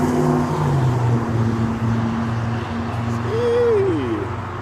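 A Chrysler 300 Hemi with a muffler delete drives past with a steady, loud, low engine drone. Late on, the pitch swells and then falls away, and no one talks.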